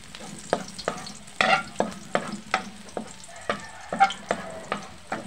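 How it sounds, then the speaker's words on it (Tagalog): Garlic sautéing in oil in a pan for chicken pancit bihon guisado, a sizzle broken by a run of sharp spatula scrapes and stirs at an uneven rhythm, close and without talk. "Magsisimula na tayo sa paggigisa ng bawang."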